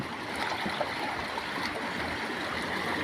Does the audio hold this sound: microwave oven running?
no